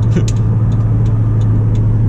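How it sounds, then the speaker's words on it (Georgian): A 1998 Volvo S70 T5 with a turbocharged five-cylinder engine idles steadily, a close, loud, even low hum with no talk over it. "5 ცილინდრიანი ძრავი."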